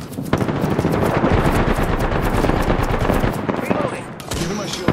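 Sustained incoming automatic gunfire in a video game, a dense, loud rattle of rapid shots that runs almost unbroken for several seconds before thinning out into scattered bursts.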